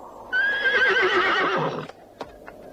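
A horse on a farm lets out one loud, close whinny that lasts over a second and a half, followed by a couple of short knocks and a brief quiet tail.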